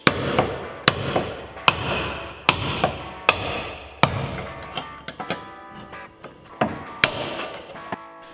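Flathead screwdriver hammered and prying at the edge of a rusted rear axle on a Firebird drift build, giving sharp metallic strikes every second or so with ringing decay, close and loud, no talking.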